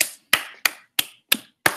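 Six sharp, evenly spaced claps ring out one after another, each a crisp broadband burst with a short decay. The rhythm is steady, about three per second, with no voices alongside.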